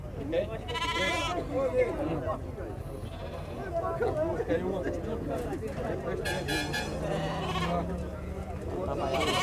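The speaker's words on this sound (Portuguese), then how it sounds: "E aqui tem uma cabra bonitona." A goat bleats several times in wavering cries while people talk nearby at a livestock market in Cupira, Pernambuco, Brazil, with outdoor livestock noise around.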